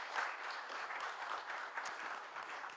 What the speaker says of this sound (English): A last round of applause for the two speakers.